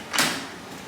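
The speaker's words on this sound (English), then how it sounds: "I'm just gonna close the door." A hotel room door in Cancun swings shut with a single brief thud and whoosh, close and fairly loud, followed by a fading room tone.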